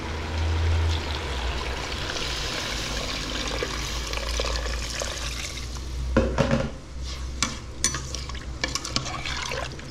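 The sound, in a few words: water being poured into a cooking pot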